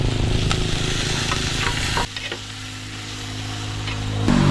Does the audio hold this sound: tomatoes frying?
yes